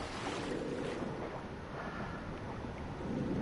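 Swimming through water in the survival game The Forest: a steady, loud, broadband wash of churning water continues for the whole stretch, with no voices over it.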